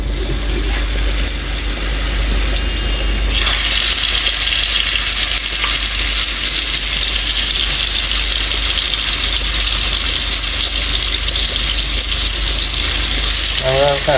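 Fish, hilsa, sliding into hot oil and frying with a loud, dense, steady sizzle that swells a few seconds in and holds for the rest, near and constant, with no voices.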